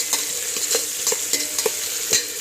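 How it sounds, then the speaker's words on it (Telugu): Rice with green chillies in a hot pan, a continuous sizzle with repeated scraping and tapping of a ladle as it is turned, close and fairly loud with no voices. "మంచి ఒకసారి మళ్ళీ మొత్తం కలిపి పచ్చిమిర్చి వేసేసి మంచిగా ఒకసారి తిప్పుకోండి."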